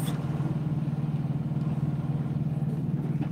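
A truck engine idles with a steady, throbbing low rumble, close and fairly loud, holding an even rhythm throughout with no voices.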